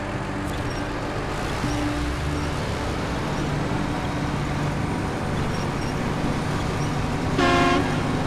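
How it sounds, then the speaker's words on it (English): A truck horn sounds one short, loud toot in the SnowRunner off-road driving game. It comes near the end, over a constant rumble of engine and mud. "let's honk at it"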